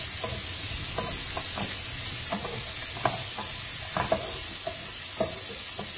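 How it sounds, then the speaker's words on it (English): Onion for a pink sauce pasta sizzles in a pan with a constant frying hiss, broken by repeated light clicks and scrapes of a spoon stirring, and no voices. "so then I'm adding onion as well. And then just let it cook."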